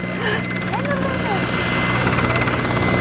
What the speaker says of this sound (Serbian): helikopter ulazi u pravac i sada posada ocenjuje moment izbacivanja vode